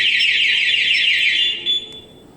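A Yamaha Mio motorcycle's anti-theft alarm blares a loud, close, rapidly warbling electronic siren for about two seconds, then cuts off abruptly.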